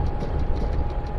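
Locomotive in the video game Train Simulator Romania gives a steady, heavy low rumble with faint rail clatter, loud and continuous with no voices.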